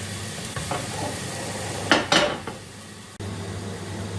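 A pancake fries in a cast iron pan, sizzling steadily with a soft hiss, broken by a couple of brief scraping stirs near the middle; no one speaks.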